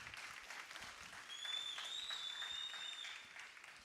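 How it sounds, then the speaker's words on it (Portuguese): A congregation at a Portuguese-language family worship service claps in a brief, fairly faint round of applause, with a thin whistle-like tone drifting over the middle of it. "Pode dar uma salva de palmas para esses irmãos."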